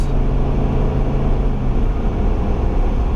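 A Ford F350 pickup with the 7.3L gas engine accelerating while towing a fifth wheel on a highway, a loud steady low engine and road drone heard from inside the cab without pause.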